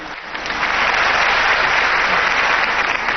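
Sustained, loud applause from a ceremony audience at a Pakistan Air Force special event, a dense even wash of clapping that swells in the first half-second and holds steady throughout, with no talk over it.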